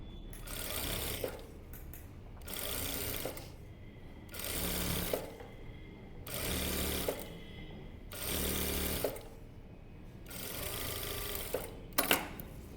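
A sewing machine stitches a blouse in five steady bursts of a few seconds each, with short pauses between runs; close and fairly loud, with no talk.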